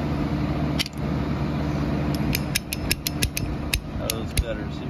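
A handful of sharp clicks and snaps from ratcheting hose cutters biting through the rubber fuel line hose of a 1979 Shovelhead FLH motorcycle's carburetor, close and over a low background hum.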